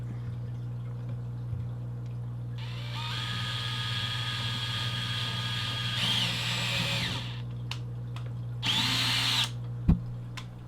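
A power drill whirs in several bursts, drilling a hole for tapping, spinning up, running steadily, then stopping, with a quieter hum and a sharp knock near the end.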